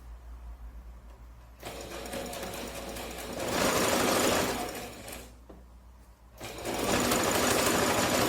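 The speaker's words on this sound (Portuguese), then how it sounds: "E a gente vai lá na máquina costurar com um pezinho de distância." A sewing machine stitches fabric in two long bursts, close and loud, with a short pause between runs of rapid mechanical whirring, sewing a bow and headband organizer with a presser-foot seam allowance.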